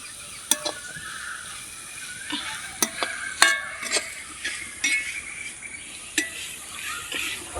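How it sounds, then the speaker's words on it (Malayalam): Garlic, ginger and green chili fry in a pan for a chicken dish, with a soft steady sizzle broken by sharp metal spoon taps and scrapes against the pan at irregular intervals. "വെളുത്തുള്ളിയും ഇഞ്ചിയും പച്ചമുളകും എല്ലാം ഒന്ന് മൂപ്പിച്ചെടുക്കണം"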